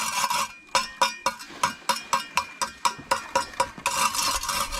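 A shovel or trowel works through a second batch of mortar for a church building project, with a steady run of rhythmic wet scraping strokes, close and fairly loud, ending in a rougher burst of mixing.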